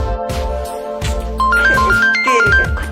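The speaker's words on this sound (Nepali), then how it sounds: "कसको फोन आयो?" A phone ringtone plays loudly and close, a bright repeating electronic melody of stepped beeping notes over a thumping rhythmic backing.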